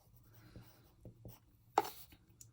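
A pencil moves across paper in short strokes, a faint, close scratching that comes in a few separate bursts and ends in one slightly louder stroke.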